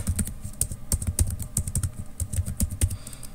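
Quick, uneven keystrokes on a computer keyboard, close and crisp, tapping in a steady burst with no talk.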